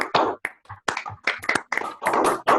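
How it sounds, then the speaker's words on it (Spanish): Applause for an invited speaker, Dr. Eduardo, at the close of a Spanish-language online math talk: a short burst of close, sparse hand claps in uneven clusters with brief gaps, no speech. "brindar un fuerte aplauso a nuestro apreciado invitado"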